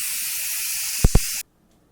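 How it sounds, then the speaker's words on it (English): Steady, loud hiss of steam venting from the exhaust valve of an electric pressure cooker cooking pulled pork, broken by two brief low thumps near the end before cutting off abruptly. "I'm going to move the handle to the exhaust setting and let it just steam out"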